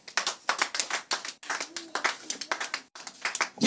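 A church congregation claps in a rhythmic, steady beat after a sermon, with many hands together, fairly close, in two or three bursts separated by brief pauses.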